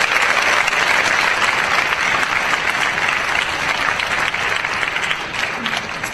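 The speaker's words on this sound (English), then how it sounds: "So give them a round of applause for their hard work on that." A large audience at the 2014 KIMEA National Honors Music Festival applauds honor music students, loud dense clapping sustained evenly and tapering slightly toward the end.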